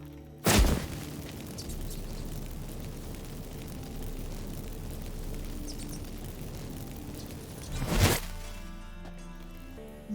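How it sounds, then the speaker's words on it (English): Magic fireworks set off by activated incense in Witcher 3 gameplay: a loud booming burst at the start, a sustained rumbling roar, then a second heavy boom near the end. "Get ready for some magic fireworks"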